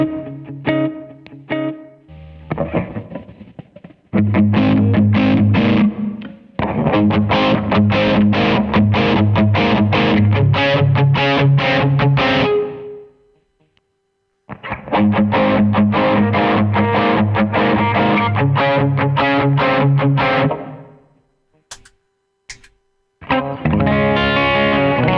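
Ambient electric guitar run through a pedalboard with an Analogizer, giving a warm, old-vinyl-like coloring; dense sustained chords and swells play in long phrases, broken by a couple of brief near-silent gaps.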